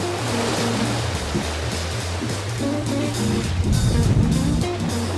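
Wind-driven ocean waves wash and slosh against a sailboat underway, a loud continuous rushing surge with low rumble from the hull and wind, with no voices.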